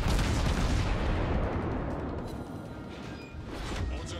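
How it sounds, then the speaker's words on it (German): Naval gunfire from 152mm armor-piercing shells in World of Warships, aimed at the battleship Kongo: a loud, booming salvo blast up front whose roar slowly decays, with a second rumble swelling near the end. "Kongo kann man locker mit AP beschießen mit 152mm Granaten."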